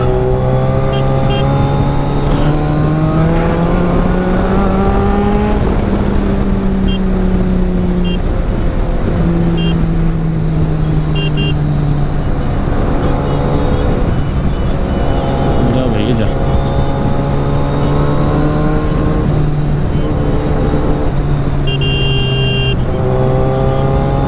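A Suzuki Hayabusa motorcycle runs at speed on a Sunday ride from Panchgaon toward home, its engine note climbing and dropping through gear changes beneath a constant loud roar of wind.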